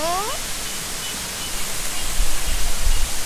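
A Caribbean waterfall pours in a continuous broadband rush of falling water, with a brief whistling tone at the start and louder low rumbling gusts toward the end.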